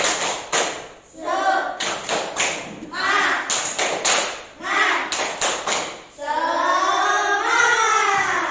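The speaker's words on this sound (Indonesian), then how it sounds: "Coba tepuk semangat." Classroom students perform a rhythmic spirit clap, sharp claps in quick patterned bursts alternating with children chanting and calling out together, loud and close.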